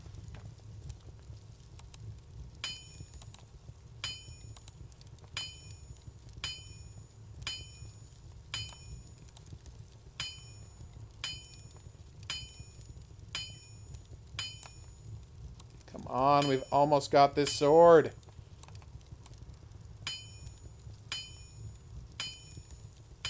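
Rhythmic metallic clinks from hammering a sword at a forge in the video game Fantasy Blacksmith, evenly spaced light strikes over a low crackling rumble, pausing while someone talks briefly before the tapping resumes.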